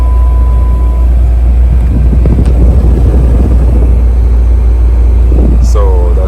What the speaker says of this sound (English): So that sound is coming from the blower motor.